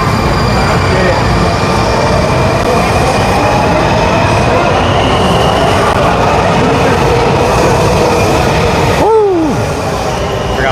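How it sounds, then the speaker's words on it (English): A train rolls past at very close range in a constant, loud rumble of wheels and rail noise, with a brief squeal near the end and a voice mixed faintly into the din. "I'm probably way too close to the train"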